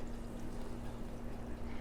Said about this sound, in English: Then the next thing it says is add the tomato sauce.